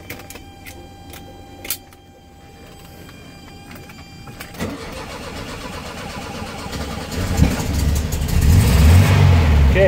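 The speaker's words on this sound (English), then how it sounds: "Cold start right there." A 1975 Volkswagen Beetle's engine cold-starts: after quiet clicks and a brief starter crank, the engine catches and settles into a loud, steady idle close by, its rumble growing stronger toward the end.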